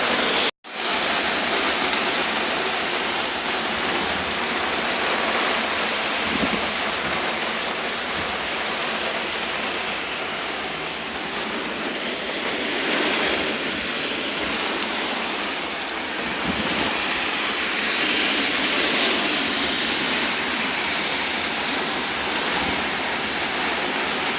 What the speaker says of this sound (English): you see right now the rain is moving out